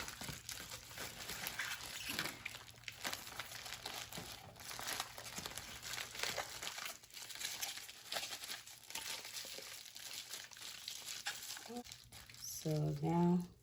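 A foil pouch from a home Pixel by Labcorp COVID test kit is handled and sealed, crinkling and rustling steadily up close, with a person talking toward the end.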